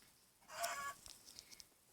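A Minecraft chicken clucks once, short and faint, followed by a few small, soft ticks against quiet game ambience.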